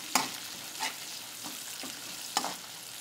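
Onion sautéing in leftover hotdog frying oil with garlic, a soft steady sizzle broken by a few sharp stirring scrapes and clinks, close up with no voices.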